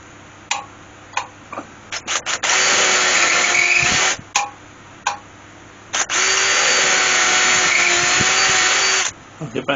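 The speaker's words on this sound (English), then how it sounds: "that's all the holes drilled all the way around" A power drill bores holes around a spalted cherry wood turning in two long steady runs of whirring, each a few seconds, broken by short bursts and clicks as the bit starts and stops.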